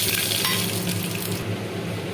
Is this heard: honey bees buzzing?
no